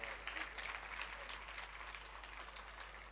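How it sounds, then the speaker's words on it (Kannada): Audience applause at a devotional music program honoring performing artists, a dense continuous wash of clapping from a crowd, steady and fairly distant throughout. "ಜೋರಾಗಿ ಚಪ್ಪಾಳೆ ಹೊಡೀರಿ, ಪರವಾಗಿಲ್ಲ."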